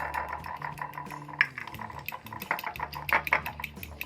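Eggs for shami kebab are beaten in a bowl, a light irregular clinking and tapping of utensil against the bowl with short scraping strokes, close and fairly quiet.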